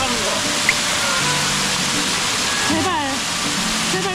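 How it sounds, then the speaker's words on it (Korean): Water pours down steadily from a waterfall feature at an outdoor water playground, a constant loud rushing splash, with voices faintly audible under the roar. "메조미에게 관심 좀 끌어보기 위해 아빠가 폭포에 맞고 쓰러지는 장면을 연출해봤는데."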